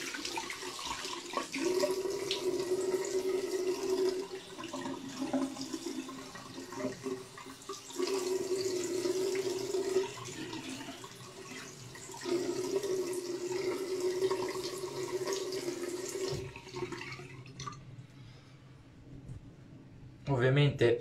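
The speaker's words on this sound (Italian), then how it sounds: "io adesso mi vado a sciacquare un attimo l'allume" An alum block is rinsed under a running tap after a shave, with steady water gushing and splashing in long stretches that break off briefly, then stop near the end, while someone talks over it.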